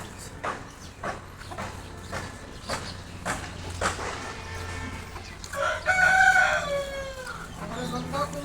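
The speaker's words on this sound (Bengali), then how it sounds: "আরেকটা মুরগি আছে।" Farm chickens cluck in steady, repeated bursts close by, and a rooster crows loudly near the middle, with other fowl calling around it.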